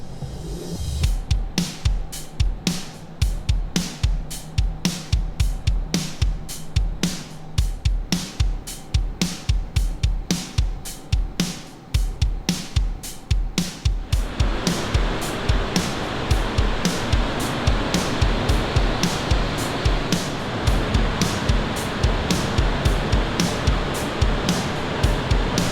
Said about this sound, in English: I'm gonna shower